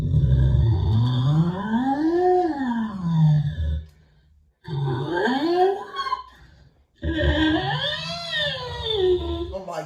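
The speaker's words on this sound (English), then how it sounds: "one of the other instruments is a daxophone, in which you play on wood with a bow for the more monstrous" A daxophone, a wooden tongue played with a bow, gives monstrous, voice-like groans and moans in three long swooping phrases separated by short silences, loud and close with no talking.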